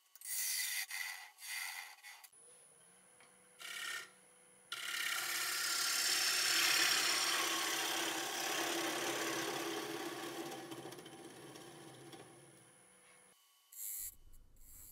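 A lathe turns a spalted ash bowl cut from firewood. Short bursts of rough scraping give way to a long, steady rasping cut lasting about nine seconds, then brief tool contacts near the end. The sound is fairly faint and there is no talking.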